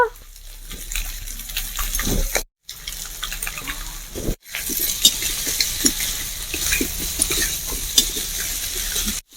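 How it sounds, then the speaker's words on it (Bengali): Vegetables for shukto sautéing in a pan with ginger paste, a steady close sizzle with scraping stir strokes throughout, broken by two brief silent cuts. "আমি আদা বাটা দেওয়ার পর আমি দু মিনিট মতন একটু কষিয়ে নিলাম"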